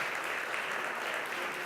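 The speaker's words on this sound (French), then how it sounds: "chers dignitaires, applaudissons nos entrepreneurs" Brief, moderately distant applause from an audience at an evening business event honouring entrepreneurs, a steady wash of clapping with no voices.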